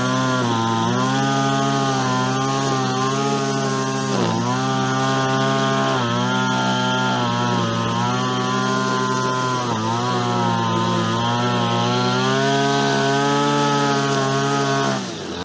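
A grass trimmer runs loudly and steadily outdoors in a village garden plot, its buzzing whine holding for the whole stretch with slight dips and surges in pitch as it cuts.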